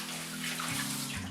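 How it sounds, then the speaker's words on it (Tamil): Tap water runs steadily over a lightly scrubbed greasy kitchen plate in a sink, a close, continuous splashing rush with a shift in tone partway through as the plate moves under the stream. "இப்போ இந்த தட்டை வந்து நான் சரியாகவே தேய்க்காம இப்படி சும்மா தேய்ச்சிட்டு இது கழுவுறேன்."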